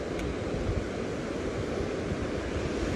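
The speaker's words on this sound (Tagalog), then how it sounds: "maganda yung ano, yung alon, mukhang yung tubig mukhang pataas yata" Ocean surf rolls in at San Gregorio beach in California, a steady broadband wash of waves mixed with wind noise, with no talk.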